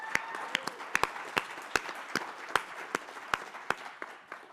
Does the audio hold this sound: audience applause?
yes